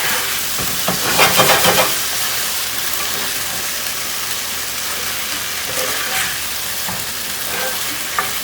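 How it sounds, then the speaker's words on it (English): Tofu and broccoli stir fry sizzles loudly and steadily in a hot pan, with bursts of stirring and scraping early on and again later. "Look at this beautiful tofu stir fry."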